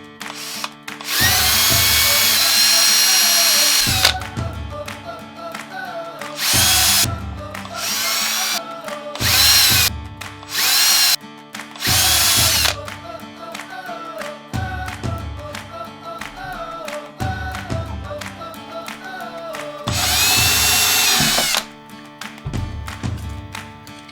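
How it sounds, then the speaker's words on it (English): A brad point drill bit bores a pilot hole for a bezel holder in a guitar tone capacitor sampler build, repeated loud bursts of whining drilling separated by short pauses, close up with no talk. "start with a smaller brad point drill bit"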